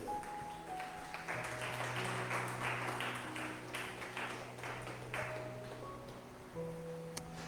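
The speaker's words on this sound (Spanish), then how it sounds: "¿Cuántos le podemos dar palmas al Rey?" A church congregation claps together at a service, a run of rhythmic applause under sustained keyboard or organ chords, fairly close and steady before fading into the music.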